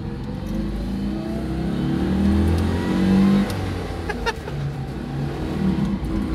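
A Citroen 2CV's small engine pulls away and accelerates, a low, buzzy drone rising in pitch and loudness as the car drives off, with no talk over it.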